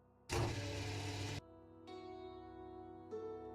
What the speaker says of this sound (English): I used my freight elevator to go to the basement.